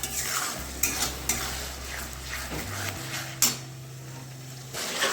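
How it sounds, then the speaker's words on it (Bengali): Masala with turmeric and salt fries in a pan for a mutton and papaya curry. It sizzles steadily while a utensil scrapes and clinks against the pot several times, close up and fairly quiet, with no talking. "হলুদের লবণ খুব ভালোভাবে আমি মশলাটাকে কষাতে থাকবো"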